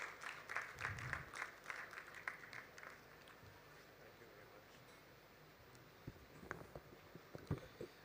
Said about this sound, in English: A big round of applause for Mr. Sameer Guduru.